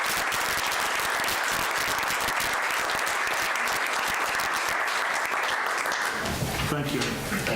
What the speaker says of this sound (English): if y'all would all join me and give him a round of applause